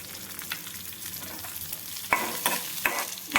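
Green chillies and garlic fry in hot oil in a pan, giving a steady sizzle, while a spoon stirs and scrapes against the pan in several sharp strokes.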